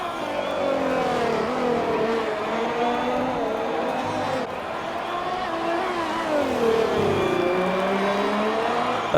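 GP3 race car engine at the Spanish Grand Prix, heard from the onboard camera as a continuous high-pitched whine rising and falling with gear changes, loud and unbroken.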